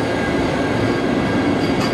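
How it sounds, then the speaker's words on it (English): The Vande Bharat Express in India heard as a steady, loud rail rumble with rolling wheel noise and a faint squeal, continuous throughout with no voices. "Apparently the fastest train in India."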